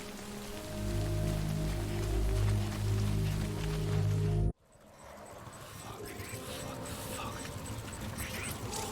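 Timefall rain pours in Death Stranding, a steady dense hiss of drops that suddenly cuts off and then returns as a softer, continuous patter.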